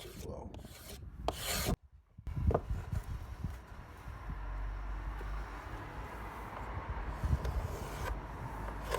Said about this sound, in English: If like me you don't own a cabinet scraper, a Scoutcrafter scraper does just as well.